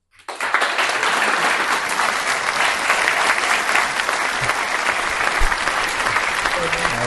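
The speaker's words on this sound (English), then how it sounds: "So round of applause for Michael." A crowd at a community cycling awards night breaks into loud, sustained applause, dense clapping that starts abruptly and holds steady throughout, close and full, with a few faint cheers or voices mixed in.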